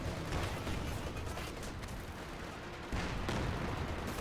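LEFH howitzer low-arc artillery shots in Company of Heroes 2 boom amid dense, rumbling battlefield gunfire, with a louder burst of explosions near the end.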